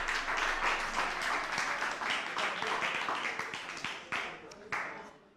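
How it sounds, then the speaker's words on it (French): An audience at a launch event claps in moderate, somewhat uneven applause. Individual claps become more distinct and the clapping thins out toward the end. "On applaudit s'il vous plaît."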